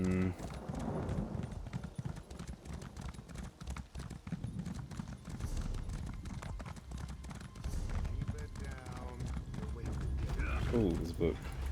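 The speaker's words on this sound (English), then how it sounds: "That's the horse." Steady clip-clop of a horse's hooves in a video game, a close rhythmic patter running throughout with faint creaks and a brief whinny-like sound near the end, under quiet background sound.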